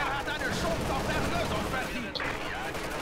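Gunfire from Company of Heroes 2 crackles in repeated bursts of small-arms shots amid battle noise, with someone talking over it throughout.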